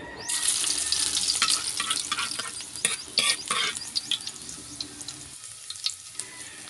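Garlic dropped into hot oil in a pan, crackling into a loud, close sizzle with scraping stirs that gradually quiets as it settles.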